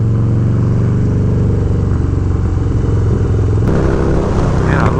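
A Harley-Davidson Dyna Low Rider twin cam engine fitted with a TBR exhaust and an Arlen Ness air cleaner runs loud and close. It holds a steady, throbbing idle with a slight change in tone near the end.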